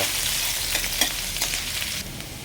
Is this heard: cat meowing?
no